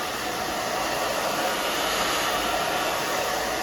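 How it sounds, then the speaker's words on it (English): A hair dryer blows steadily while drying thin, freshly cut hair, a loud, close, unbroken whoosh of airflow with a faint high whine and no speech. "now what we're gonna do is blow dry"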